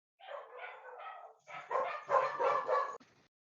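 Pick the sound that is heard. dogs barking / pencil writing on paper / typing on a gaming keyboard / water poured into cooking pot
dogs barking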